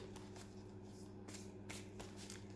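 Cards shuffled quickly by hand for a nine-card reading, repeated soft riffling bursts and snaps in close, quiet succession with no talking.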